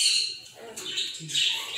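A pet bird gives several loud, harsh squawks up close, each call separated by brief gaps, with no one speaking.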